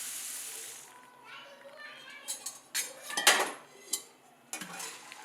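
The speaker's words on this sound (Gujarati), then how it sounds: "આ મમરાને આપણે પહેલાં શેકી લઈશું" Puffed rice roasts in a little hot oil in a kadai, heard as scattered metallic scrapes and clinks of stirring in the pan, with a voice speaking softly alongside.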